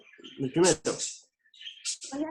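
Small birds chirping indoors in a participant's room, a few bright high chirps in brief clusters, heard under and between people talking nearby.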